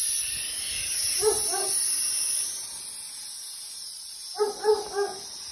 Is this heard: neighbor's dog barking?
yes